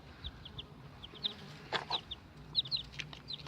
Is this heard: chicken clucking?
yes